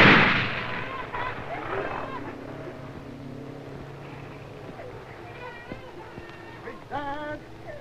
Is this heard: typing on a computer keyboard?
no